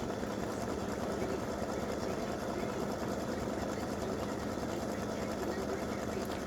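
A sewing machine runs continuously while stitching squares for tic-tac-toe game board pieces, a steady mid-level droning hum with no pauses.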